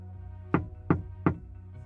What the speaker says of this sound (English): It was a gentle tapping on the window, three steady taps, as if someone was knocking, from outside the second floor window.